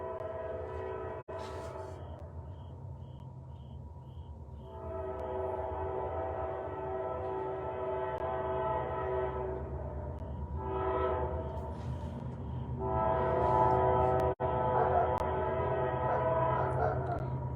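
A train rolls past with its horn sounding in several long, loud blasts that rise and fall, the steady rumble of the cars running underneath throughout and growing louder toward the end.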